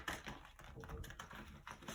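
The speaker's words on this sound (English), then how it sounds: "Just shuffling the cards" Tarot cards are shuffled by hand, giving a quiet, close run of rapid papery flicks and soft taps that continue without a break, with no voices.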